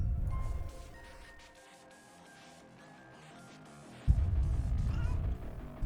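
A video game character meows like a cat, a drawn-out whiny meow at the start followed by a quieter pause, then another loud, rough cat-like yowl over game music and background rumble.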